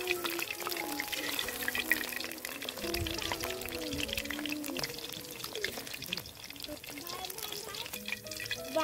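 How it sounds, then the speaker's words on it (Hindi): Paneer sutli bomb pieces fry in hot oil in a blackened kadhai. There is a soft, continuous sizzle with some pouring and stirring sounds, and it stays fairly faint throughout. "अभी हम इसको फ्राई करेंगे।"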